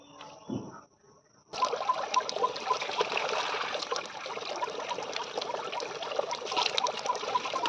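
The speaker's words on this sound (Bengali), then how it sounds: "মোরলা মাছগুলো ভালো করে রোগড়ে ধুয়ে নিলাম" Small morala fish and tiny shrimp being rubbed and washed under running water, a brief knock and clatter first, then a steady close splashing stream of water that runs continuously.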